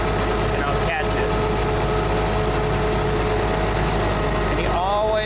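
A crane engine revs slightly as the operator feeds in throttle, a steady loud mechanical drone with a constant hum filling the whole stretch.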